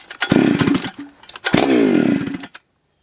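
Husqvarna 272 chainsaw on choke at fast idle, started twice in quick succession: each pull brings a loud, close, buzzing two-stroke rasp that runs under a second or so before cutting out.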